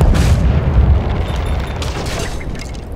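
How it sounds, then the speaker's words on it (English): Scouting blimps blow up under a fire weapon in Borderlands 2: loud, booming explosion rumble that swells at the start and rolls on in a dense, slowly fading roar, with no talk. "blow up the village's scouting blimps with the fire weapon"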